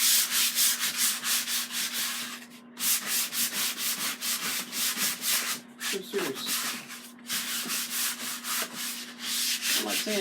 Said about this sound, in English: sanding a piece of furniture,